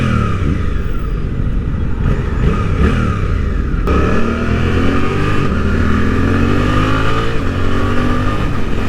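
A Suzuki GSX-8R motorcycle engine revs steadily while riding, loud and continuous with rising and falling pitch sweeps as the rider shifts through gears, wind noise underneath.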